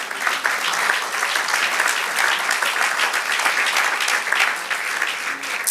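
A church congregation claps steadily and enthusiastically, a dense sustained applause without pause for several seconds.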